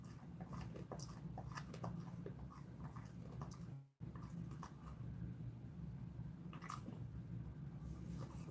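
A Jindo dog gnaws on dried pollack skin, producing close, repeated crunching and biting sounds in an irregular rhythm, with a brief gap midway and no talking.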